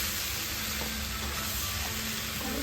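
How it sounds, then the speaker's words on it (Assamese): Ridge gourd and potatoes fry in spices over a medium flame, giving a steady, dense, close sizzle that runs without break. "ধুনীয়াকৈ জিকাখিনি কমেও মই 10 মিনিটমান ভাজিম মিডিয়াম ফ্লেমত।"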